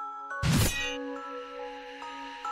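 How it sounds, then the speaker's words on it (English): A sharp metallic ring from clashing blades in a visual novel game, one bright struck clang that sustains and decays into a long shimmering tone, heard alone. "A sharp ringing, the sound of clashing blades."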